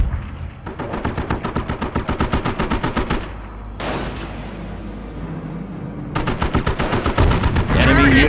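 Rapid machine-gun bursts and rifle fire crackle close and loud in a Company of Heroes battle during the Normandy invasion at Montebourg, with a brief pause and radio-style unit chatter mixed in.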